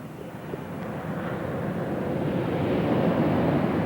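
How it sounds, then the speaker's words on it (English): A Russian Sukhoi Su-27 fighter jet lines up on the runway before takeoff at an airshow, its engines producing a steady, broad roar that slowly builds in loudness, heard from a distance with wind noise and no talk. "Larry, lining up on the runway here, preparing for takeoff. The official performance today of the Sukhoi Su-27 aircraft from Russia"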